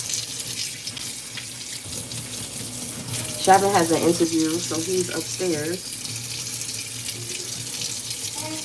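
Tap water runs steadily into a sink as water is being changed out during breakfast preparation for a big family, a constant rushing hiss throughout with someone talking briefly over it midway.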